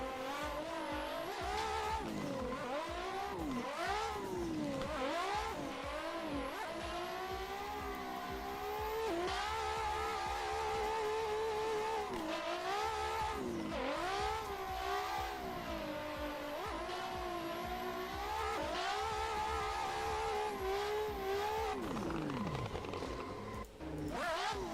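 Toyota Supra race car engine in the Assetto Corsa racing game, revving and shifting repeatedly with tire squeal and skidding, loud and continuous throughout with no talk.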